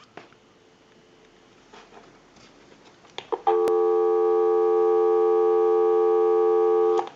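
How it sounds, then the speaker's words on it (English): An Automatic Electric three-slot payphone, converted and repaired, gives a steady, loud dial tone after a few handset clicks and handling noises, holding unbroken for several seconds. "go ahead and give you some dial tone."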